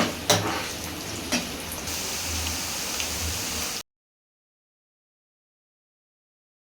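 Chopped onion sizzles and crackles steadily in a generous amount of hot oil for a mutton liver fry, with a couple of sharp clinks near the start before the sound cuts off abruptly.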